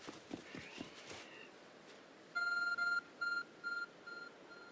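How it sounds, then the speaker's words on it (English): An electronic beeping from a glowing object in the video game Pokemon Legends: Arceus, heard as a run of loud, evenly spaced tonal beeps in short bursts after some softer game sounds. "There's a glowing, beeping object over there."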